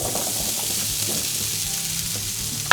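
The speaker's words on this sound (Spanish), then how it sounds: "Y simplemente los salteamos hasta que queden tostaditos." Spiced chickpeas sauté in a spoonful of hot oil in a frying pan, giving a steady close sizzle throughout, with a brief louder clatter near the end.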